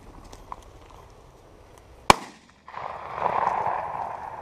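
A single sharp shotgun blast during a pheasant hunt, loud and close, its report decaying quickly, followed by a steadier broadband rustle of movement outdoors; no talk.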